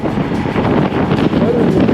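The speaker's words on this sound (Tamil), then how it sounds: "இந்த பக்கம் காத்தடிக்குது" Strong wind buffets a microphone outdoors on an empty mountain route between Bumla and Bomdila, a loud, continuous rushing roar with no quiet gaps for the full two seconds.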